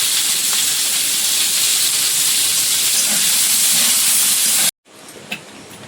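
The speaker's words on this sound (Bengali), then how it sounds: "তেলের মধ্যে কসুরমুচিটা দিয়ে দিলাম, ভেজে নেব।" Taro roots (kochu mukhi) frying in hot oil in a kadai, a loud steady sizzling hiss that runs unbroken, then cuts off abruptly near the end and leaves a quieter background.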